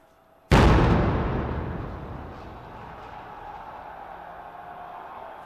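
A single loud explosion bursts suddenly during a street protest on the Champs-Élysées, then decays into a long rumbling echo and a lingering crowd and street din.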